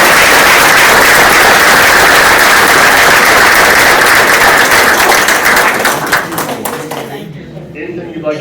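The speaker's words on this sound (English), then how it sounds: "give them a nice round of applause" Audience at an awards ceremony applauding, a dense, loud wash of clapping that holds steady for several seconds and then thins out and fades to scattered claps near the end.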